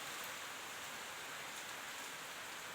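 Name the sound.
rain falling in Kishoreganj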